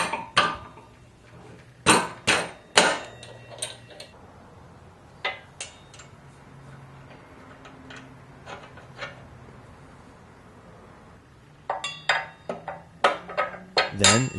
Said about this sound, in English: With the spacers aligned, push the axle in place.